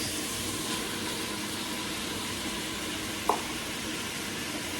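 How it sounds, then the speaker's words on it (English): Baby bella mushrooms sizzling in a hot pan, a steady soft frying hiss throughout with one brief clink of a utensil. "I'm gonna add 6 ounces of baby bella mushrooms"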